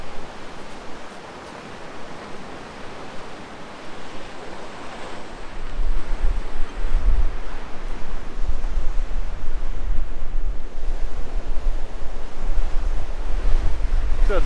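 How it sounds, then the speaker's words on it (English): Blustery wind buffets the microphone over steady surf at the Quileute River harbor entrance in La Push, a continuous roar that grows louder and gustier about halfway through, with no voices. "Wind's picking up a bit, so it's getting a little blustery out here"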